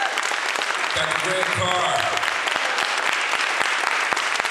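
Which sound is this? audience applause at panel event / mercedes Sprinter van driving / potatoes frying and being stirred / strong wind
audience applause at panel event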